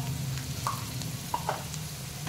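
Beans and capsicum for veg fried rice are stirred in a hot pan, with a steady close sizzle and a few soft scrapes of the spoon against the pan.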